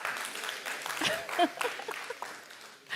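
Fairly quiet applause from a conference audience in Dubai, scattered claps spread through a room, with a few louder hand strikes standing out near the middle.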